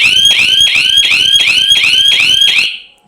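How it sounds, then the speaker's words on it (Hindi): A shrill electronic buzzer alarm on a homemade motion sensor security project pulses rapidly in about eight even bursts, loud and close, then cuts off abruptly. "तो जैसे मैं इसके आगे हाथ रखूँगा, सेंसर के आगे हाथ रखूँगा, तो हमारा बजर साउंड करने लगेगा।"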